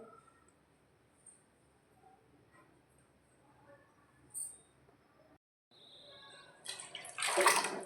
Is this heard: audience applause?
no